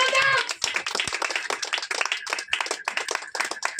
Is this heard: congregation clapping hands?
yes